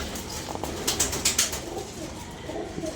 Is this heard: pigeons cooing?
yes